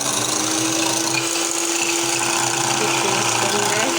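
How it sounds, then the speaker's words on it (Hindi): A grinder whirs loudly and steadily as it blends whipping cream for homemade mango ice cream, a constant close motor drone filling the whole stretch. "उसको इतना ग्राइंड करना है कि"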